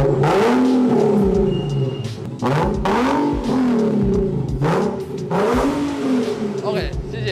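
A two-door car with a modified exhaust revs loudly and close by, sending out three or four rising and falling roars in a steady rhythm, each one swelling and then dropping back between blips.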